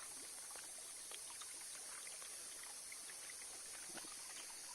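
Mountain spring water trickles softly at Kulang fort in the Sahyadri hills, a faint steady babble with small scattered drips under a constant high background hiss, no talk.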